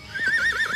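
A horse gives a loud, close whinny with a wavering, trembling pitch, and soft hoof sounds can be heard beneath it.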